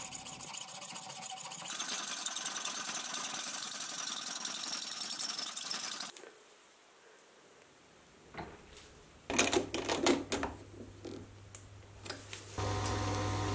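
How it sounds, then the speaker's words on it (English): A lathe turns 316 stainless steel with a sharp carbide insert, a steady loud broadband cutting hiss that stops midway, followed by quieter clattering and mechanical rattles. "because it can be a bit of a tough material to turn on this lathe"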